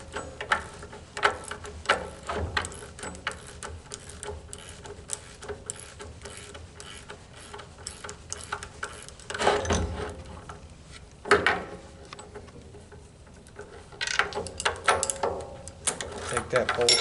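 Wrenches working a chain bolt, a 1/2-inch and a 7/16-inch held together to loosen it, produce scattered metallic clicks and ticks with a few louder clanks over a low room background.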